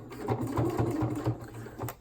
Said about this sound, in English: I can pivot again and continue top stitching to the edge of the wing